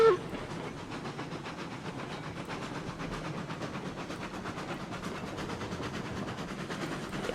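A train in the game RailRoads Online, hauling cars loaded with steel pipes and tools, rolls along the rails with a steady, rapid clickety-clack over a low rumble, continuous and moderately close.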